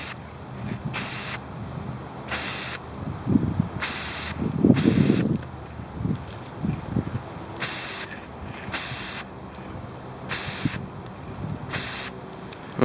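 A coat sprayed from an aerosol can onto a car brake light lens: about ten short, sharp hissing bursts at a steady rhythm, close and loud, with faint handling sounds between them.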